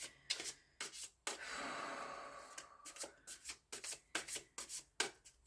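A tarot card deck is shuffled up close, first with a long riffle-like flutter and then a quick run of rhythmic card swishes, fairly quiet and with no talking.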